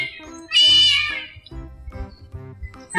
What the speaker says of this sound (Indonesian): jadi kucing-kucing saya ini bukan kucing ras, semuanya kucing kampung